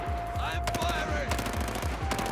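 Rapid automatic gunfire in a Battlefield game firefight, a loud steady stream of shots with sharp cracks over a continuous rumble and faint game voices underneath.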